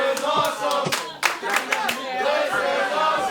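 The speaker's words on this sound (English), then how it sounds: "Crowd showing their love and support for this match." A wrestling arena crowd cheering and shouting during a match, a dense roar of voices with scattered claps and yells, moderately loud and steady.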